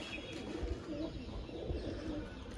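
Homer pigeons coo in low, soft, repeated calls close by, with a steady hum of background noise underneath and no talking.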